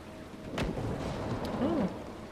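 Thunderstorm in the Dragon Age Inquisition video game, with a low steady rain wash and a sharp lightning crack followed by a rumbling roll, fairly quiet under a faint tonal sound.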